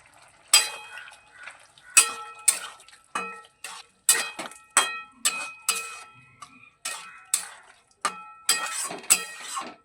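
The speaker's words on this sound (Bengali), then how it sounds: "ঘি এবং গরম মশলা বাটাটা খুব ভালোভাবে তরকারির সঙ্গে মিশিয়ে নেওয়া হয়ে গেছে।" A spoon stirs ghee and garam masala paste through a soybean and potato curry in a pot, giving a steady series of sharp scraping and clinking strokes, close and clear with no talking.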